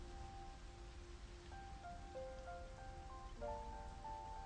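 Broadband hiss of heavy rain in a video game falls steadily throughout, with soft sustained musical tones drifting above it.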